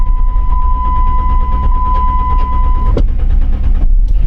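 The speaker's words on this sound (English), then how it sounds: "The starter sounds pretty terrible, but the cadence of the engine sounds pretty steady." A loud, grinding starter motor cranks a Chrysler Town & Country engine with a rotted oil pan, a steady whining tone and rapid rhythmic chugging, cutting off abruptly with a clunk near the end.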